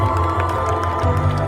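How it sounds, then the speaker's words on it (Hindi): Audience at the Femina Miss India pageant at KIIT University, Bhubaneswar, cheering and applauding as a guest is introduced; a steady, dense roar of crowd noise holds for the full moment, with a sustained low musical hum beneath. "जोरदार तालियां"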